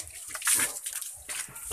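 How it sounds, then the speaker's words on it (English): Water splashing and sloshing while a mother pig is bathed with buckets in a pig pen, a few brief wet splashes and pours at close range, moderately loud, with no talk. "I will take a bath first for this mama pig."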